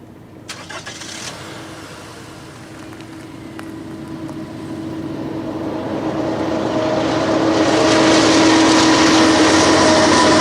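Two diesel locomotives haul a freight train past, a low engine drone with a steady tonal hum that swells louder and nearer over several seconds, with clanks early on.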